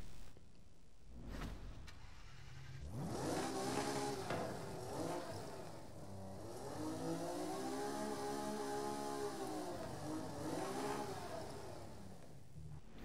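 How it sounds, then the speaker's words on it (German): An older car without a particulate filter starts up in Forza Horizon 5, cranking briefly before the engine catches, then revving in several rising and falling sweeps. The engine sounds loud and close, with no talk. "Und deswegen starten wir jetzt den Wagen."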